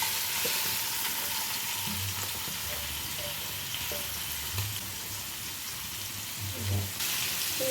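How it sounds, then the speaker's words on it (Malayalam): Prawns fry in hot homemade coconut oil in a pan, giving a steady, crackling sizzle with occasional soft thumps and scrapes of a spatula, close and moderately quiet, no voices. "ചൂടായ പാനിലേക്ക് ഞാൻ എണ്ണ ഒഴിച്ചു കൊടുത്തിട്ടുണ്ട്. മിക്സ് ചെയ്ത് വെച്ചിരിക്കുന്ന ചെമ്മീൻ ഇട്ട് കൊടുക്കാം."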